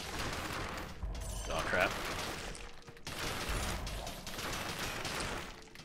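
A turret in the Dead Cells video game fires in dense, rapid mechanical bursts, two sustained rattling volleys separated by a short gap, with a brief spoken exclamation over the noise.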